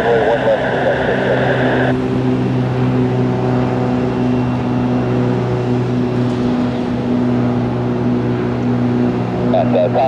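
A Cirrus single-engine propeller plane taking off from runway 1 left at Tampa International Airport, with a steady droning engine hum heard from a distance beneath continuous radio chatter.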